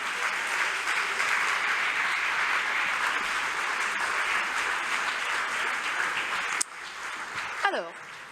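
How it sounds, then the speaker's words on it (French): Audience applause in an amphitheatre at a university thesis-presentation final, a dense steady wash of clapping that stops abruptly near the end, followed by brief noises. "Vous pouvez rejoindre vos sièges et vous pouvez les applaudir."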